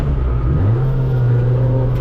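A faster race car at Mid Ohio passes on the outside, its engine note climbing and then holding a steady, loud drone close by.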